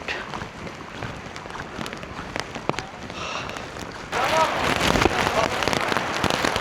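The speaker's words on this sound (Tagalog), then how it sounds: "Ayan guys, lakas ng ulan." Steady heavy rain hisses across a hard surface at a parking area near Mount Pinatubo, Philippines, growing louder and denser partway through, with faint movement noises mixed in.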